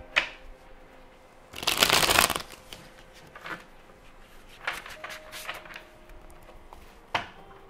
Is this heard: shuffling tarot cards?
yes